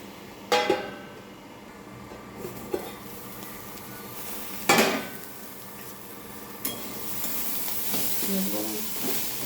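Nate shak (amaranth greens) fry in a pan while a spatula stirs and scrapes them, with sharp metallic clanks against the pan over a soft, continuous sizzle and no speech.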